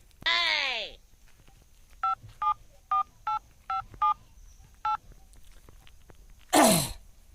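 A series of about seven short telephone keypad tones beep in a quick, slightly uneven rhythm while dialing a number, preceded by a brief chirpy sound and followed by a loud burst of noise.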